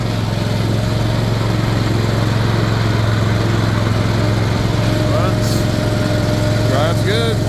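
A Toro zero-turn mower with its brake released drives off under a steady, loud engine drone that holds constant throughout, with a few faint high squeaks late on.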